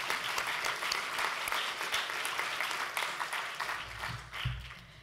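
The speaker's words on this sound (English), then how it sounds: "Would you please join with me in a round of applause for our sponsors?" Conference audience at a medical association national congress gives sponsors a sustained round of applause, a full, even wash of clapping heard from within the hall.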